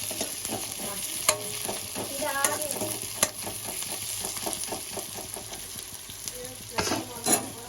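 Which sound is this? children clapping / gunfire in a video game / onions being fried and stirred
onions being fried and stirred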